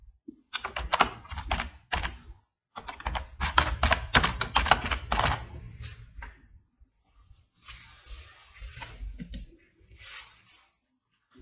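Fast bursts of close, crisp clicking and clacking on a computer keyboard while text goes into a PowerPoint text box, with short pauses between runs and a quieter patch of keystrokes near the end.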